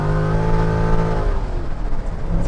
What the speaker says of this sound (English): we're gonna do a pull real quick. Get in second gear so I don't wheel hop to death